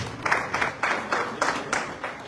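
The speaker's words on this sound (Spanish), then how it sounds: "para quien pido fuertes aplausos." Audience applause for a community cultural committee member at a public ceremony in Tututepec, several bursts of rhythmic clapping at a moderate distance, regular and evenly paced, with brief gaps between the beats.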